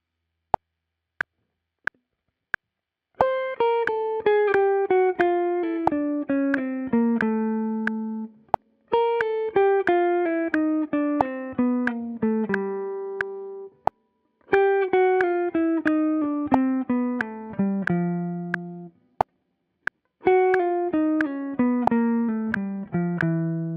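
A few sharp count-in clicks, then a clean electric jazz guitar plays flowing single-note runs in four phrases over the changes to the A section of a tune, each sliding downward, close with brief pauses between.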